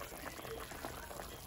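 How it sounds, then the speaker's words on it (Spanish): Pork leg cooking in salted water with garlic, a faint steady boiling bubble heard alone at low level throughout. "Estamos haciendo la carnita de cerdo. Se puso a cocer con sal,"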